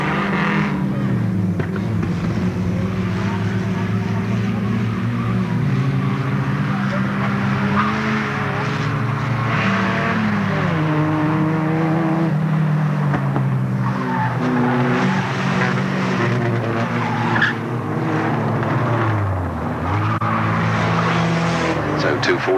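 Race cars roar together around Alwalton Raceway in a 1983 race, a dense, loud wall of revving engines with rising and falling pitch and occasional tire squeal, while a commentator talks over the noise throughout.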